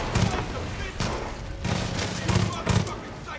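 Bursts of automatic gunfire in Far Cry 5 come in several rapid volleys separated by short pauses, loud and close, with a voice faintly present under the shots.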